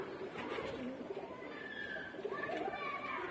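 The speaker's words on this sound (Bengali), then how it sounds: "প্রথমে প্রচণ্ড অ্যাক্টিভ পায়রা।" Pigeons coo and call softly in a loft at dusk, including ice pigeons, with low cooing phrases and brief higher calls running steadily under a continuous murmur of background noise and voices.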